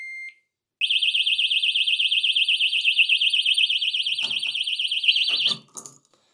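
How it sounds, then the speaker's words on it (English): A motorcycle disc lock alarm gives a short warning chirp, then shrieks loud and close in a fast, warbling piercing tone for about five seconds. Clicks and handling knocks come near the end before it cuts off. "That is very loud, and as you see there, to turn the alarm off, you need to unlock it with the key, which also switches the alarm off."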